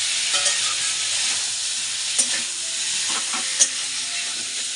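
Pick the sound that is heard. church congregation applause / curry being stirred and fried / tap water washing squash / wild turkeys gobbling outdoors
curry being stirred and fried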